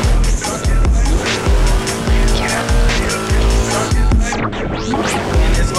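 A race car on 265-section tires roars loudly on a track, its engine surging in repeated bursts while the tires squeal and skid sharply.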